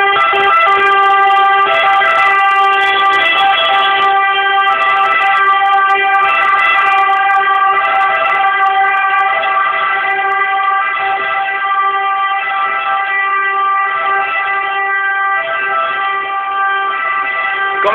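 Fire engine sirens and horns in congested city traffic in Messina, with lorries and double-parked cars blocking the way; loud, steady wailing tones hold throughout with blasts of horn layered on top.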